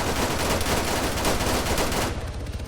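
Sustained rapid automatic gunfire in the multiplayer shooter game Arma 3, loud and dense bursts filling the whole moment, tapering slightly near the end with no talk.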